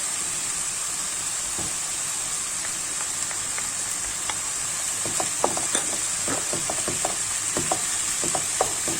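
Onions and garlic frying in a pan with peppers, a constant hiss of sizzling oil with scattered crackles and light scraping, close by, growing busier toward the end.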